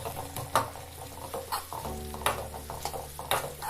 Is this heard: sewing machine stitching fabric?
no